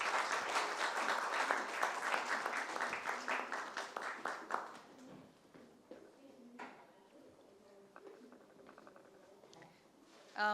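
Applause from a conference audience welcoming panelists onto the stage, dense clapping for several seconds that thins out and fades, leaving scattered claps and quiet room sounds.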